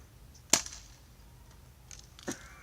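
An airsoft gun fires BBs at a sign outdoors: a sharp snapping shot, then a fainter tick and a second crisp crack about two seconds apart, against quiet surroundings.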